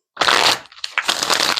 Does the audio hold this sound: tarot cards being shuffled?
yes